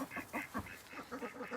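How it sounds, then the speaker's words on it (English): Welsh Harlequin ducks on a farm give a run of short, nasal quacks in quick uneven bursts, fairly close and fairly quiet, with no talking over them. "Fred is a Welsh Harlequin duck."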